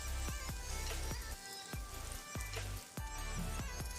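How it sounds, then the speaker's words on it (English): Butter melting in a hot pan for pink sauce macaroni gives a steady close sizzle with small crackling pops scattered through it, with no talking. "Melt the butter."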